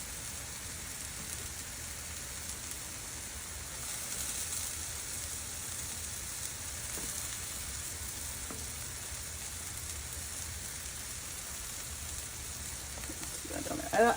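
Burger buns toast on a Blackstone flat-top griddle, a steady soft sizzle and hiss running the whole time with faint clatter near the end.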